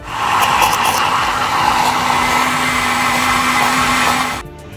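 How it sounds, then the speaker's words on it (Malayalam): A mixer grinder blends cooked, cooled masala with a little water into butter chicken gravy, roaring loudly and steadily for about four seconds before cutting off abruptly. "നമുക്ക് ചൂടാറിയതിന് ശേഷം നമുക്കൊന്ന് മിക്സിയിലിട്ടിട്ട് ജ്യൂസ് അടിച്ചെടുക്കാം."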